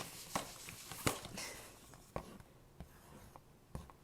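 A pen scratches across paper while someone draws an astrology chart. The soft strokes come in short, irregular bursts with brief pauses between them, close and faint, with no talking.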